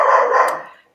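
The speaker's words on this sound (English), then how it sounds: "That's the dog." A dog gives a single loud, close bark that trails off within a second, with no voices around it.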